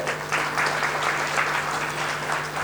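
Steady audience applause fills the whole stretch, a dense continuous patter of many hands clapping at close range with no voices over it.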